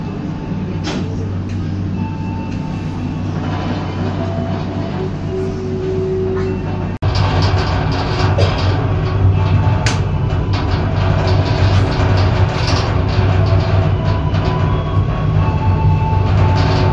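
Argo Cheribon passenger train running just after departing Jatibarang station, heard from inside as a loud steady rumble with rhythmic rail clatter that jumps louder partway through.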